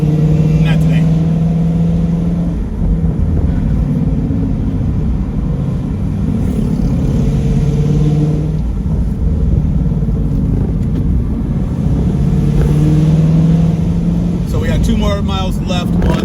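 Camaro engine droning steadily on the winding Tail of the Dragon mountain road, a continuous loud low rumble with slight rises and falls in pitch as it drives on.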